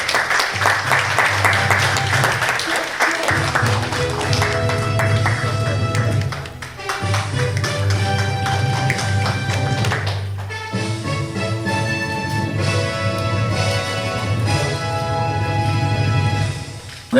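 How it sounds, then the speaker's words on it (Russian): Loud, sustained audience applause at an award ceremony for a photo contest, steady dense clapping filling the hall with brief dips around the sixth and tenth seconds, no voices on top. "Да, конечно, бурные аплодисменты."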